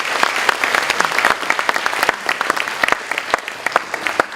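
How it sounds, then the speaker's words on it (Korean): Warm applause at a university worship service for a student, loud close hand claps with distinct sharp individual claps over a steady crackle, lasting a few seconds. "우리 양지숙 학생을 위해서 다시 한번 따뜻한 박수 부탁드리겠습니다"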